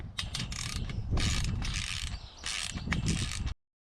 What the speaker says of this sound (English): It's time to go around systematically torquing these down.